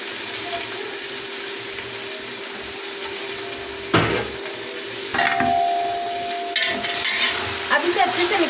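One kilo of meat goes into a pot of lightly browned onions for daal gosht, setting off a steady loud sizzle with a few clanks and stirring scrapes, and a brief tonal hum partway through.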